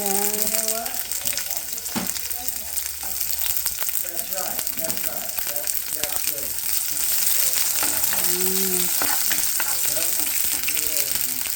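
Garlic and onion sizzle in hot oil, a steady frying hiss with scattered stirring clatter and occasional faint voices in the background.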